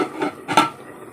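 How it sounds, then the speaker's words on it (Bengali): A pot of rice set down on a stove, a couple of short metallic knocks and clanks of the vessel against the burner, close and brief. "এদিকে ভাত বসিয়ে দিচ্ছি"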